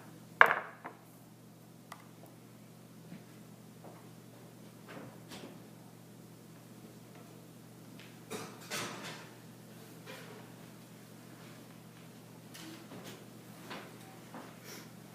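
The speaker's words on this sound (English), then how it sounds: "The next step is to put the brownie mix in the oven." A brownie pan goes into a preheated oven, with a sharp clunk of the oven door near the start and a few softer knocks and rattles later in an otherwise quiet kitchen.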